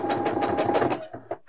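A domestic sewing machine stitches in a fast, even run of close mechanical clatter, then stops and makes a couple of slower single stitches.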